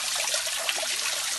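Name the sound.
spring water trickling out of rock in a grotto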